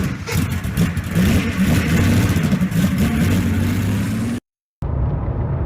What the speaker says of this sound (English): we are driving an absolutely beautiful Renault 25